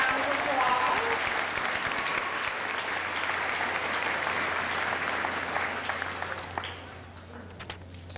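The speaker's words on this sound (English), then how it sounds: "Can we have another round of applause?" An audience at a school graduation ceremony gives a sustained round of applause that fades gradually over several seconds, ending in a few scattered claps, with faint crowd murmur beneath and a low steady hum underneath.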